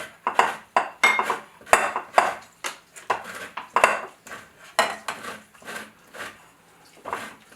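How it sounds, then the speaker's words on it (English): Knife work on an orange being cut for juicing, a run of loud, close, irregular knocks and scrapes against a board and dishes, with no voices. "I'm going to cut this one, and I'm going to juice it."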